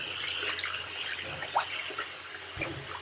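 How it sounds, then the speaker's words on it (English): A tap runs cold water into a sink where t-shirts are soaking, a steady splashing flow from close by with small drips and clinks, and no talking. "Let me get a little more water in there."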